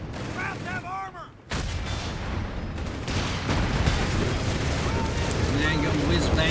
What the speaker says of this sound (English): And there you go, whiz-bang unleashing a massive volley there.